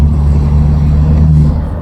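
A BMW M240i (F22) with a B58 engine, aftermarket exhaust and free-flow downpipes rumbles loud and close, its deep bassy exhaust note sustained steadily before easing off at the end.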